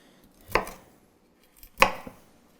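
A chef's knife cuts a vegetable into big florets with two crisp, separate chops against a cutting board, close and clear in an otherwise quiet kitchen.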